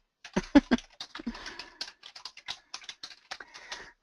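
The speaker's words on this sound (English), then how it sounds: "whoops, I can't type today" Fingers type on a computer keyboard in rapid, uneven bursts of close, crisp key clicks, with a few louder strikes near the start and brief pauses between runs.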